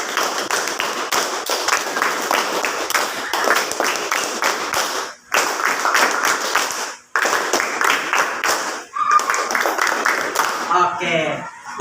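A classroom of pupils doing a rhythmic clapping game, with dense bursts of group hand claps in patterned sequences broken by short pauses, with voices counting and calling along over the clapping throughout.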